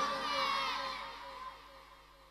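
A large religious gathering roars back in unison, a loud crowd of shouting and cheering voices in response to a chanted call, swelling at first and then slowly fading over a couple of seconds.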